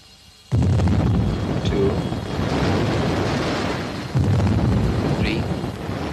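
Torpedo explosions in a 1943 WW2 Royal Navy submarine film, a sudden loud rumbling blast that sustains, then a second heavy detonation follows, dense and booming with no speech over it.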